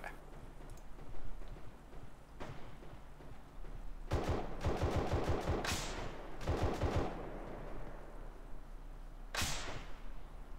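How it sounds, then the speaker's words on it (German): Rapid bursts of gunfire in Arma 3 crackle in quick repeated volleys, with a few single shots before and after, over a faint background hum. "Da höre ich ständig Schüsse."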